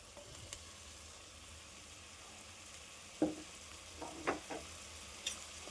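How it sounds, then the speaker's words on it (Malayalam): Shallots and chopped tomato for a Kerala prawn curry fry in a pan, giving a soft, steady sizzle. A few distinct clinks and scrapes of stirring come through near the end. "നമുക്കിനി ഇതൊന്ന് ഇളക്കി കൊടുക്കാം."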